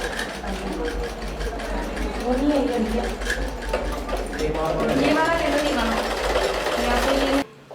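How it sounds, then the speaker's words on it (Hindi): Sewing machines stitching at a sewing training centre, a steady fast mechanical rattle running throughout with people talking over it, stopping abruptly near the end. "बच्चे सिलाई भी कर रहे हैं, सिलाई सीख रही है, सभी सिलाई सीख रही है"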